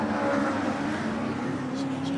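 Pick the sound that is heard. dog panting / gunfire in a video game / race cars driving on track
race cars driving on track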